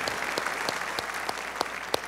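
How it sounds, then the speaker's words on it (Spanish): Church congregation clapping together in a steady, rhythmic beat, with sharp regularly spaced claps over a bed of mixed hand claps in a reverberant hall. "Le damos un aplauso al Señor."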